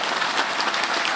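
Dense, steady crowd applause at a political rally, loud and continuous throughout with no voices above it.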